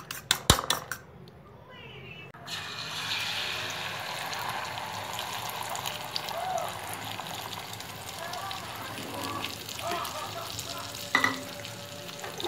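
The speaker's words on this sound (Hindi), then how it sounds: "अंडों को फ्राई पैन में डाल दिया है और इसे फ्राई कर रही हैं" Eggs for an omelette frying in a frying pan, a steady broadband sizzle that holds through the clip, with a few utensil clinks near the start and end.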